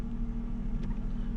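A 2004 Cummins diesel pickup runs in gear after a repair, a steady low rumble close by with a faint transient partway through and no talk.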